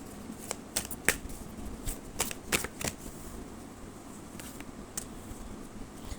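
Angel cards are shuffled by hand for a reading, producing a run of quick riffling flicks and soft slaps close up, fairly quiet, without speech.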